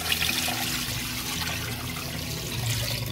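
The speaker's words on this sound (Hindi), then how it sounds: "3 लीटर पानी मैं इसमें शामिल कर दूंगी," About three litres of water poured steadily into a pot of nihari meat, a continuous close gushing splash with no one talking.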